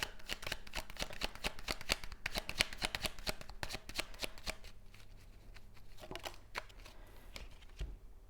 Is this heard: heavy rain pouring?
no